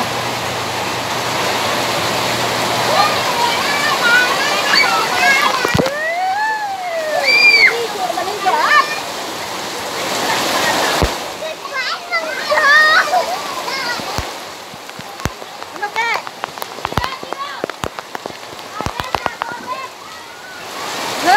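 Heavy rain pours loudly and steadily, splashing hard, while children and adults shout and talk over the downpour.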